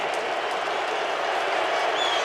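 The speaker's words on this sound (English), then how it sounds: "Capacity crowd getting noisy" A capacity crowd at a Canadian football stadium roars in a steady, loud, continuous wash of cheering and noise throughout, with no clear pauses.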